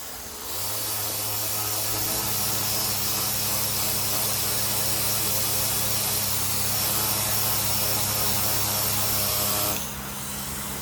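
A random orbital sander with 320-grit paper runs steadily with a loud whirring hiss and low hum for about ten seconds, starting and stopping abruptly, sanding coating off side trim of a 1964 Ford Falcon hardtop.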